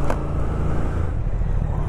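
Triumph Speed Twin motorcycle riding onto the freeway, a loud steady engine rumble mixed with wind roar, heard up close with no talk.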